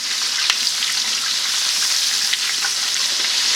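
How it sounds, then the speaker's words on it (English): Rabbit pieces fry in a pan with a steady, loud, close sizzle, broken by a few faint pops and crackles as the meat is turned. "We're going to start with the fried stuff. I'm going to flip it over."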